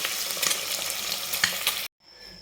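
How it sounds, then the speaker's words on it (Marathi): Potatoes fry in oil toward a golden colour, giving a dense close sizzle with a few utensil clicks, then cutting abruptly to near silence with a faint hum; no talking. "छान सोनेरी कलर येईपर्यंत आपल्याला परतून घ्यायचं याला।"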